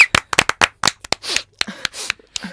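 Office staff clapping for a departing colleague: sparse, uneven claps in short bursts with gaps between them, close by and fairly loud, with a few rustling sounds mixed in.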